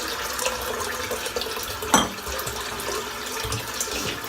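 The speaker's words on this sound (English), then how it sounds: "Just rinse the bowl off a little bit and we'll fill it back up." Cold tap water runs steadily to rinse out a shaving bowl at a sink, a continuous close splashing wash with a brief louder splash midway.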